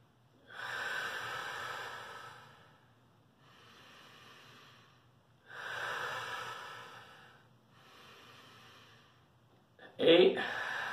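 Slow deep breathing exercise: four long, loud breaths alternating inhale and exhale, each lasting about two seconds, followed by a brief sharper sniff or gasp at the end.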